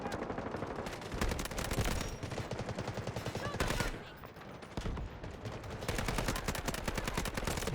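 Rapid bursts of automatic gunfire in a Battlefield shooter, loud and nearly continuous with short pauses between volleys, machine-gun rattles layered over single shots.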